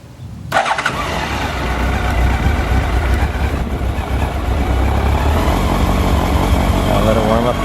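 A 2000 Honda CB 1300 Super Four, started on choke, catches abruptly after a short crank and settles into a loud, close, steady idle rumble that holds evenly, with a voice briefly present.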